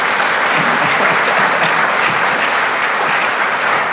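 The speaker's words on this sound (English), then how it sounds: "You might want to give them a round of applause for that" An audience at a school conference presentation breaks into steady, dense applause, many hands clapping continuously at an even level with no voices above it.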